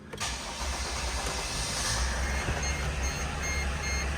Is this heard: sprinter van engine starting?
yes